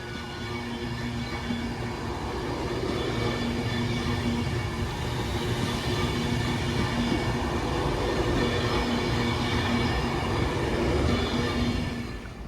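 An empty stock Class 390 electric train, unit 390-005, passes through Northampton, a steady loud rolling rumble with humming tonal whine and faint wheel squeal, sustained throughout before easing at the end.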